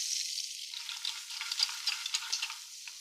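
Butter sizzling in a pan over lowered heat while making lobster bisque, a steady soft crackling hiss with small pops scattered throughout, close and moderately quiet.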